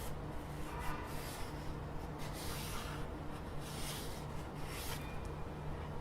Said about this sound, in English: I'm just going to draw a wobbly shape of the GPD pocket to get a feel of it